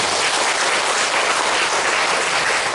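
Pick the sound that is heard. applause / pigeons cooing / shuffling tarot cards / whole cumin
applause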